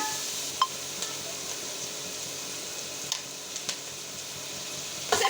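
Two onions frying in two tablespoons of ghee for a samosa filling give a steady, moderate sizzle throughout, with a few sharp clinks of a spoon against the pan scattered across it.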